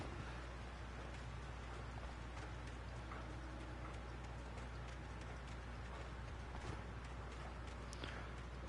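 Steady rain falls in the Alan Wake video game, a dense continuous hiss with scattered droplet ticks and a few soft thuds, running evenly throughout at a moderate level.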